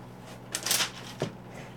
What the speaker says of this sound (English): I'm not mixing so much as I'm kneading and folding